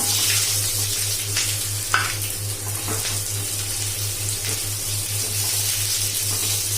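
Sliced onions fry in a hot pan in a home kitchen, giving a steady, loud sizzle with faint crackles and a brief clink partway through, alone with no talk.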